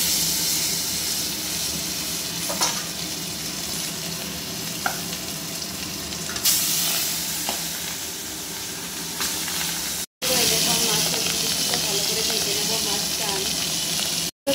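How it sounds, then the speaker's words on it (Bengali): Fish fries in hot oil in a wok, a loud, dense and continuous sizzle with steady hiss and occasional crackles, heard up close; the sound cuts out briefly twice before resuming. "বন্ধুরা আমার কড়াইটা গরম হয়ে গেছে, এখন আমি মাছটা দিয়ে দেবো।"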